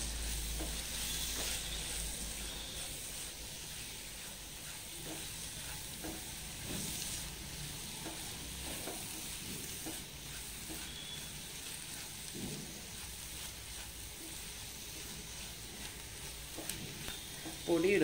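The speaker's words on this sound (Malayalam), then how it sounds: "ഇതിൻ്റെ പച്ചമണം മാറണ വരെ ഒന്ന് വഴറ്റി കൊടുക്കുക." Turmeric and garam masala powder sautéing in a pan for a Kerala egg roast: a quiet, low sizzle with occasional stirring scrapes and soft clatter, faint throughout.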